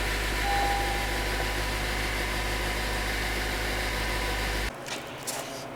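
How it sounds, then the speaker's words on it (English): Honda Civic engine idling roughly while throwing fault codes, a steady loud drone with a low throb that cuts off abruptly near the end, leaving faint rustles. "Why this engine is giving me codes and running like shit."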